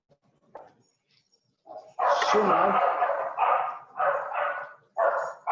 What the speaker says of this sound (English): Our dog is getting hungry.